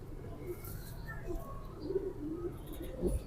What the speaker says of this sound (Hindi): ये खतंग कबूतरों में से निकला हुआ शार्का कबूतर है